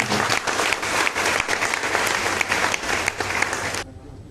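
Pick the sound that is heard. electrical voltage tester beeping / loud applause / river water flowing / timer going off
loud applause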